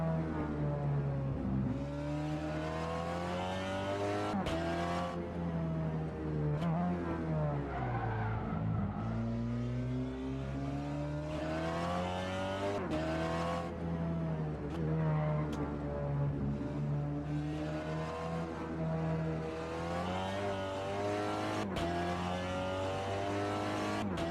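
Volkswagen Golf GTI TCR front-wheel-drive touring race car lapping Circuit Goodyear, its engine loud and close, revving hard and climbing through gears with repeated shifts and lifts.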